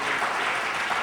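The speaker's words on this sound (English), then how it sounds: "we need to give the organizers of this conference a big round of applause" Audience applause for conference organizers at a Black History Month gathering, a steady, dense wash of clapping filling the whole short stretch without a break.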